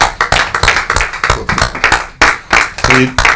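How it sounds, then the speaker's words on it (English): An audience at a township council meeting claps for honorees, steady close and loud handclaps in a quick uneven rhythm, with a brief voice near the end. "Let's cheer for them, everybody, both of you."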